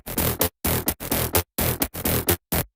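Distorted mid bass groove in a dance music production, played as short, punchy repeated bursts separated by brief gaps, loud and alone.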